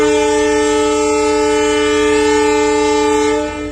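An Uttar Sampark Kranti express train departs Kathgodam, its horn blaring in a loud, steady multi-tone blast that holds for several seconds over a low rumble before easing off at the end.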